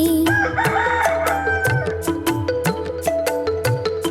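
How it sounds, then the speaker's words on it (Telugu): A rooster crows at dawn in a Telugu nursery rhyme, the call rising over bright, steady backing music with a regular beat. "తెల్లవార వచ్చింది కోడి కూసింది."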